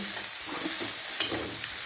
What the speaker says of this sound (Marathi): भेंडी छान परतून घ्यायची आहे